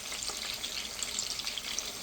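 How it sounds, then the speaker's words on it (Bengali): Mrigal fish head coated in chilli and turmeric powder fries slowly in a pan, giving a steady, even sizzle with no pauses and no one talking. "আস্তে আস্তে ভেজে নেব।"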